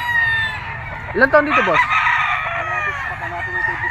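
A young gamecock, an 18-month-old bull stag with a black-tipped comb and yellow legs, crows once near the mic, a rising, wavering call over steady background noise while a man asks a short question.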